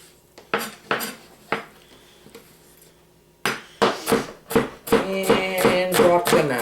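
A kitchen knife clatters down among dishes and utensils while potato salad is being prepared, with scattered metallic clinks and knocks, then a rapid burst of louder rattling hits near the end, close by with no talking.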